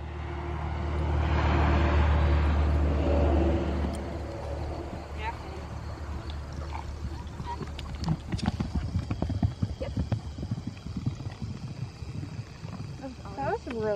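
Horses' hooves clip-clopping in an irregular, fairly close rhythm over a steady low rumble, with a louder broadband wash early on.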